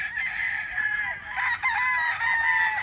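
A Sweater Boston Hikum gamecock crows at close range, one long, loud, wavering cock-a-doodle-doo running nearly three seconds with a brief break midway.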